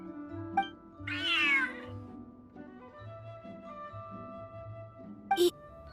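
A cat in the video game Genshin Impact gives a drawn-out meow, with quieter in-game ambience and soft tonal sounds around it, then a brief sharper sound near the end.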